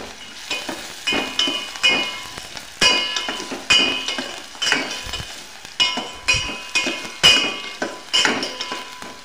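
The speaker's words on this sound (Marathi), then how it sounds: "कांदा व्यवस्थित 2 मिनिटं तेलामध्ये भाजून घ्यायचा आहे" Onion fries in oil in a pan with a loud, steady sizzle, broken by repeated rhythmic clinks and scrapes of a spoon stirring against the metal pan, close by and without talk.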